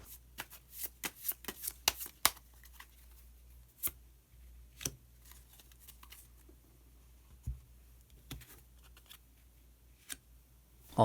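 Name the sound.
tarot cards being shuffled and drawn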